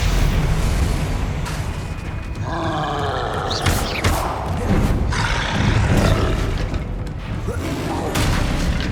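Repeated Confringo explosive spell blasts in Hogwarts Legacy, booming bursts over a continuous rumbling combat din, loud and dense throughout, with a voice calling out over it.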